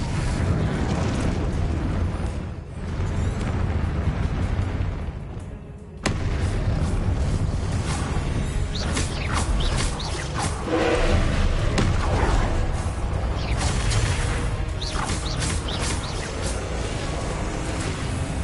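Spell blasts in the game Hogwarts Legacy, a dense run of loud booming explosions and rumbling impacts, one sharp burst near the middle after a brief lull, with no talking.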